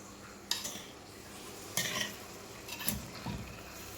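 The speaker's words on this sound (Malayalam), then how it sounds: "അപ്പം നമുക്കൊന്ന് ഇളക്കി കൊടുക്കാം" A spoon gently stirs a Kerala fish peera dish in a pan, giving a few soft scraping strokes over a quiet background sizzle, close and alone without talk.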